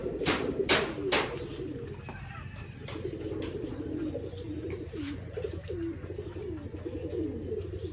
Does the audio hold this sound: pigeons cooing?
yes